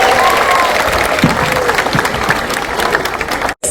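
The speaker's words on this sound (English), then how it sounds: "I think she deserves a big round of applause." A zoo crowd at a seal show claps in a loud, dense burst of applause lasting a few seconds before it abruptly cuts off.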